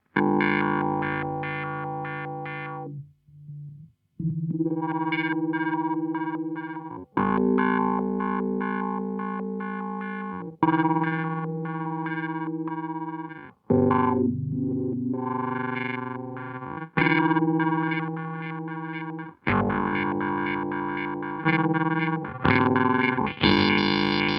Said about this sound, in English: it's the same thing, but with a filter.